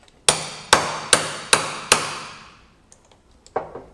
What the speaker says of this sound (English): as it's struck, it rotates the screw head like an impact, but with the force of a hammer coming down on it